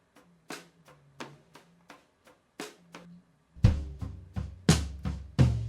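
Drum overheads with the low end cut away leave thin, bright cymbal and snare hits, sparse and light at first, then a louder, denser run of crashes and hits in the closing seconds.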